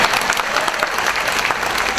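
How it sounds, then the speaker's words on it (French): A comedy show audience applauds in a dense, steady burst of clapping that fills the whole moment, loud and close, with no talk over it. "J'ai envie de vous demander de vous applaudir"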